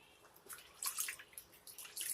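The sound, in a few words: water dripping while washing a baby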